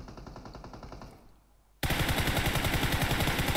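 Rapid automatic gunfire in PUBG Mobile bursts in loud and close after a quieter stretch, a dense continuous rattle of shots.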